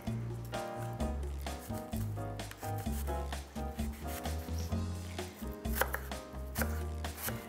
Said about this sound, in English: So here we're gonna chop as well.